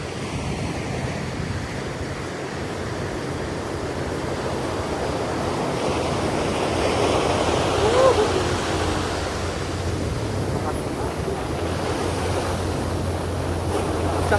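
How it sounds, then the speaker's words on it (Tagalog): Ocean surf at Liwa Liwa, San Felipe, Zambales rolls and washes continuously, a broad roaring hiss that swells slightly in the middle, with wind noise underneath. "Isang alon dito sa Zambales."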